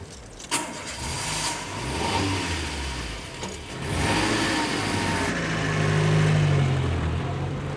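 A car engine starts with a sharp crank, settles into a steady mid-pitched running note, then revs and pulls away, growing slightly louder before easing off.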